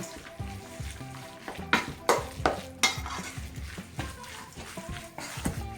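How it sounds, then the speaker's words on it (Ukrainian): Repeated stirring and mixing of salted minced meat in a bowl, with soft scraping and occasional sharper clinks of a utensil, close up. "Перемішаю гарно."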